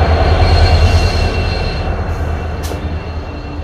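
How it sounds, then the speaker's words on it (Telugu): A Siliguri-based diesel locomotive rumbling on an Indian railway line, heard as a loud, steady low drone with rail noise. A brief high screech of wheels cuts in near the end. "ఇది సిలిగురి డీజిల్ లోకో."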